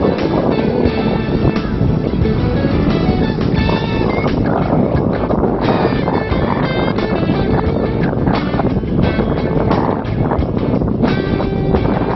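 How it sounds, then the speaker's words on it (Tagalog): Strong, steady wind roars across an open microphone throughout, a dense continuous rush with some watery, boat-like churning underneath. "Tinutulak kami ng hangin."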